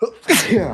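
A single sharp, close sneeze bursts out loudly, preceded by a brief spoken word.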